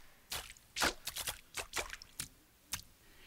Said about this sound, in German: Es platscht und quatscht und spritzt